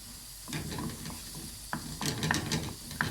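Degi red chili powder, half a teaspoon, sizzles in hot butter being readied as a topping for beef paya, a steady frying hiss broken by a few stirring scrapes and clinks, close and moderately loud with no talking.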